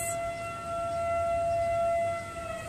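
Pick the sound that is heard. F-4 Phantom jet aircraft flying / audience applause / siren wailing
siren wailing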